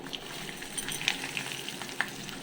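Mustard seeds, cumin, asafoetida and garlic crackle and fry in hot ghee, a steady soft sizzle dotted with small sharp pops and spits, close and moderately quiet.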